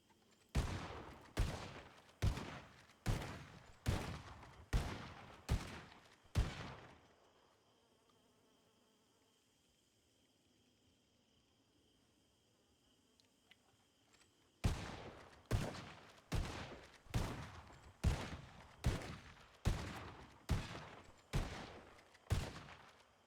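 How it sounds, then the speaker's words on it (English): Video game gunfire in a roleplay setting, with two strings of about ten sharp, evenly spaced shots each, separated by a quiet gap with faint background hum. "He just keeps shooting 10 rounds each time."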